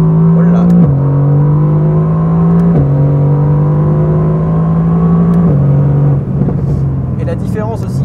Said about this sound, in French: On a vraiment l'impression qu'il y a des explosions dans le pot d'échappement.